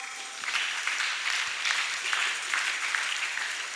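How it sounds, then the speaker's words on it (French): A church congregation applauding during a service, dense sustained clapping from a crowd that swells and holds steady for several seconds, with no speech over it. "On acclame, on acclame."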